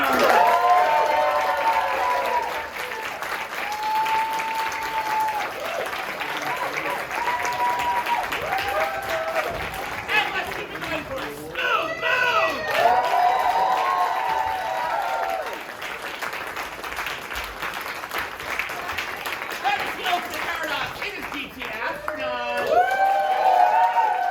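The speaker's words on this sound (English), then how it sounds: "you're gonna give them a warm, excellent round of applause" Continuous crowd applause and cheering at an improv festival as teams come to the stage, running under an amplified host's voice speaking over it for most of the stretch.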